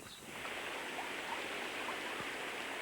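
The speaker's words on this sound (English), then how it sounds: "This is the river that we heard when we were listening for sounds." A river flows right beside the village of Blennerhassett, heard as a steady rushing wash of water that swells in after a brief quieter moment and then holds even, with no voices.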